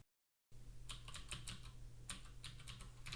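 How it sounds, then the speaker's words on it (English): Code typed on a computer keyboard into a Julia text editor: irregular bursts of crisp keystrokes start after a brief silence, close and clear, with no voices. "As soon as you started typing"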